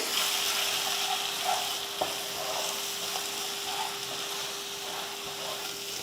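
Beaten eggs with salt frying in a pan on low heat while being stirred, a steady bright hiss of sizzling with scattered soft spatula clicks and a faint steady hum underneath.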